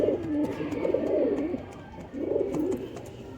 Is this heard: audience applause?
no